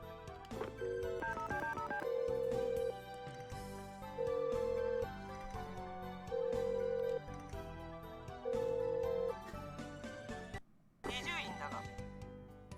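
A telephone in the Tokimeki Memorial dating sim dials and rings, steady sustained ring tones repeating four times in a regular pattern over game background music, with brief dialing blips near the start.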